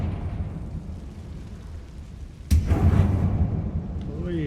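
A Confringo fire spell bursts in a dim mine tomb in Hogwarts Legacy, a sudden loud blast that rumbles and crackles for about a second over low ambient game hum before fading back to a quieter background.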